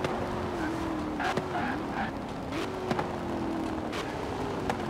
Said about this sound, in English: A nice backfire